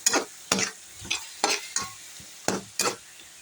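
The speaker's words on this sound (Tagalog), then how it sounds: "Igisa lang natin ng konti. Igisa natin mga 5 minuto lang" Vegetables for pakbet sautéed in a pan, with about eight distinct scraping stirs of a utensil in a rhythmic pattern over a faint sizzle, close and fairly quiet, with no talking.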